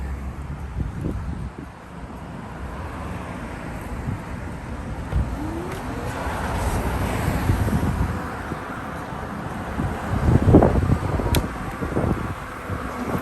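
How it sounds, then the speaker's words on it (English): Cars pass a cyclist riding along a city street lined with parked cars in Fort Lauderdale, Florida, a steady rumble of traffic with wind buffeting the microphone and a louder vehicle sweeping by near the end. "So I gotta watch the traffic."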